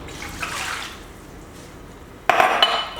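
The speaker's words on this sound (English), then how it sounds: "I put in the water" Warm water poured into a bamboo bowl holding olive oil for spelt bread dough, a brief splashing pour after a soft clink, close and fairly loud.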